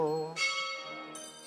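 Church bells ring at an Easter vigil in Jerusalem, sustained tones with rich ringing overtones sounding loud and continuous, with a fresh strike layering in near the end.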